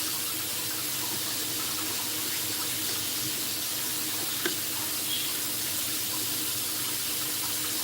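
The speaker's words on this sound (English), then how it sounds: "sound of water faucet running." A water faucet runs steadily into a sink, a continuous hiss and splash at moderate level with no talking.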